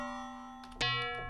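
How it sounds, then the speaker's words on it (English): A bell preset from a free FM synth plugin rings out bright metallic tones, with a sustained chime followed by a second struck bell note with shimmering overtones, clean and alone. "And you've got the bells."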